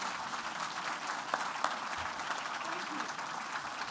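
An awards-night audience claps for donors, a steady crowd-wide round of applause with a few sharper nearby claps standing out from the even wash.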